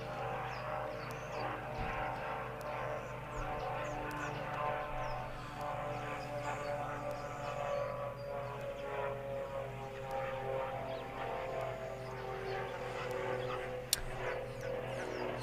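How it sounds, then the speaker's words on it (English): A propeller plane drones steadily overhead near an airstrip in a natural setting, a continuous, moderately distant engine hum lasting throughout with no talking. "That is why we can also hear that plane flying overhead."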